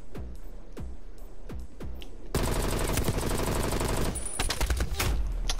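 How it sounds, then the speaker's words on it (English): Rapid automatic gunfire from the video game Call of Duty Cold War, starting as spaced single shots and then breaking into a loud, sustained burst of fire with overlapping impacts. "Oh, we got shot from the back."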